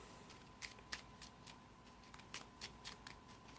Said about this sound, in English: And shuffle our deck.